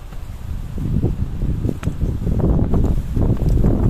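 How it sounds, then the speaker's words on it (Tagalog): Strong wind on the summit of Mount Cagua, Gonzaga, Cagayan, buffets the microphone in a heavy, continuous low roar with gusty surges and some rustling. "Ang lakas ng hangin guys"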